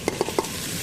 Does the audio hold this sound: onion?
yes